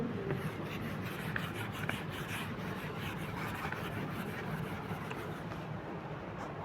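Chalk writing is wiped from a classroom board, a continuous dry rubbing and swishing in a noisy room, with no clear pauses.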